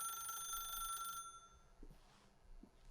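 A telephone rings in The Stanley Parable video game, a steady electronic bell tone that holds for about a second and then stops, followed by faint soft bumps in quiet room tone.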